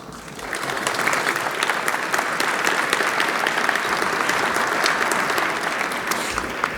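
A big live audience at a healthcare debate claps steadily, a loud, dense wash of applause that swells in and holds without talk.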